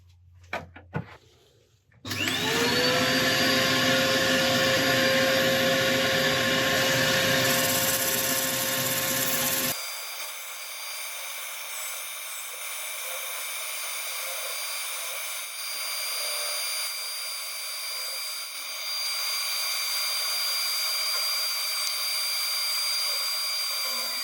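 Oak bowl being sanded on a wood lathe: after a brief knock, a loud steady whirring hum with a high whine runs for several seconds, then drops to a quieter continuous hiss and drone for the rest, no talk.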